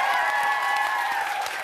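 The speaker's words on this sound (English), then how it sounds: "Let's give a big round of applause." A television talk-show studio audience applauds, a brief burst of dense clapping over a sustained musical tone, steady and fairly loud for under two seconds.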